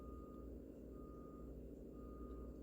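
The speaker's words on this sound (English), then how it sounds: "paratransit, they beep when they back up." A paratransit vehicle backing up to drop off passengers emits faint, regular reversing beeps, heard from a distance under a low engine rumble with no speech.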